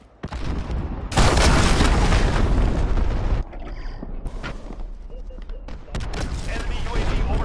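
Heavy cruise missile blasts in a military video game, a sustained loud rumbling barrage of explosions and gunfire with a brief lull before more booms roll in, game voice callouts heard over the din.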